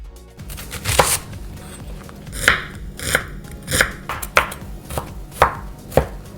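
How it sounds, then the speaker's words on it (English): A knife chops garlic and shallots on a cutting board, a few irregular strokes then a steady series of crisp knocks about once every second, close up with no talking. "Start preparing garlic and shallots by chopping and slicing them."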